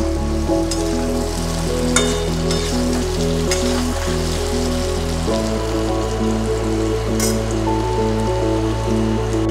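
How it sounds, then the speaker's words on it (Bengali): Pieces of young jackfruit fry in a pan with a steady, crackling sizzle like light rain, heard throughout under a constant background of music, with no talk. "এঁচোড়ের গায়ে যে জলটা আছে সেটাও যাতে হালকা করে শুকিয়ে যায়, সেই রকমভাবে ভেজে নেব"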